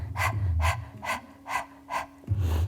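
Five sharp, evenly spaced panting breaths from a yoga breathing exercise, each exhale forced out by the abdominals, close and rhythmic, with soft breathing sounds between bursts.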